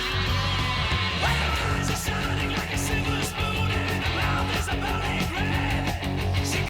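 A 1970s heavy rock song with gruff, shouted vocals plays loud and dense throughout, full-band distorted guitars, bass and pounding drums driving steadily without a break.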